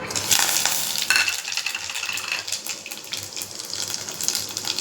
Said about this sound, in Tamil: எண்ணெய் காஞ்சிருச்சு இதில் வந்து சோம்பு பட்டை லவங்கம் ஏலக்காய் இதெல்லாம் வச்சுருக்கேன்